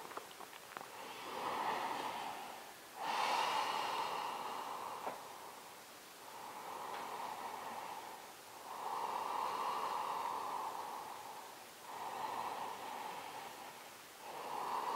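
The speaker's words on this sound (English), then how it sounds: "Three deep breaths." Slow, deep breathing during a yoga forward fold with a toe lock, each long airy inhale and exhale swelling and fading in steady cycles, close and fairly quiet, with no talking.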